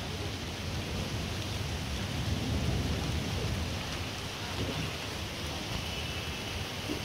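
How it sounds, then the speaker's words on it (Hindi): Heavy rain pours steadily during a thunderstorm, a dense continuous hiss with low rumbling thunder underneath, close and loud throughout with no voices. "बारिश बहुत ज़्यादा हो रही है,"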